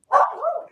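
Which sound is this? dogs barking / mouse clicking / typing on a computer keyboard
dogs barking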